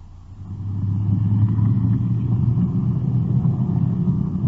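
A police detective car rolls in toward the curb on a city street, its engine giving a steady low rumble that swells after a quiet start and holds close and continuous, with no talk.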